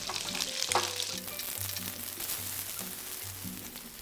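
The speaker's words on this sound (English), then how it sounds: "fry the onions and the white parts of the green onions" Onions and the white parts of green onions frying in hot oil in a pan for a beef stir fry, a continuous close sizzle with occasional louder spatters and stirring.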